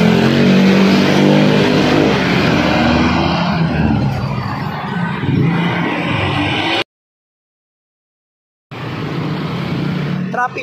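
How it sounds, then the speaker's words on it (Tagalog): Street traffic in the Philippines: continuous engine rumble and passing vehicles close by, one revving as it accelerates, with voices mixed in, then a sudden silence of about two seconds before the traffic noise resumes. "Traffic pa rin hanggang ngayon."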